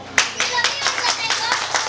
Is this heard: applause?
yes